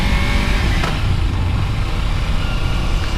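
A Kawasaki Ninja 300 motorcycle pulls away from a stop as the clutch is released, its engine a steady, loud drone that holds at a fairly even level throughout the short stretch with no talk over it.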